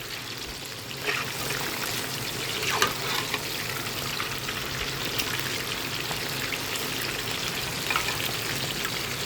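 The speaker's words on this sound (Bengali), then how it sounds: "চিকেন লেগ পিস ফ্রাই হচ্ছে এখন।" Chicken leg pieces frying in oil for a half-fry order, a steady dense sizzle with crackling pops running throughout at a constant, fairly close level.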